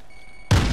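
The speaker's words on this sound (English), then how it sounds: "Throwing grenade!" A thrown grenade explodes in a first-person shooter video game: a sudden loud boom bursts out of near silence and keeps rumbling to the end.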